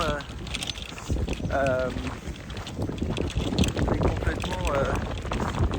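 Strong wind buffets the microphone on an open, unsheltered golf course in Frutillar, Chile, a loud continuous rumble running under a voice as he talks throughout.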